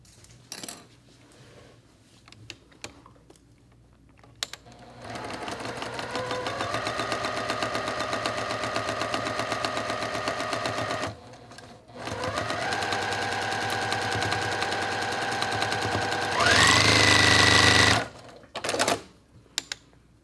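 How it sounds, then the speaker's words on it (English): A sewing machine runs a quarter-inch seam on a quilt block in two long bursts of fast, even needle chatter, close and loud, with brief pauses and handling clicks between runs. "And then we're going to sew with a 1/4 inch seam"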